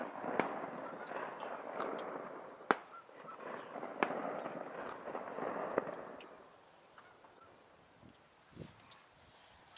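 Duck hunters' shotgun blasts crack out in the distance over Fort Loudoun Reservoir, a scattered series of sharp reports and echoes above a soft wind-and-water hush.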